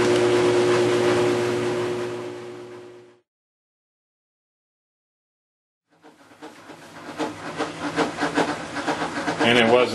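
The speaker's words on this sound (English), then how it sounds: "it was in fact spinning down the wash load. You can hear now the noise it makes just coming to a stop" An overloaded Maytag Centennial washing machine spins down after its wash cycle: a steady mechanical whir fades to silence, then a knocking, rattling clatter rises and grows louder as the drum comes to a stop.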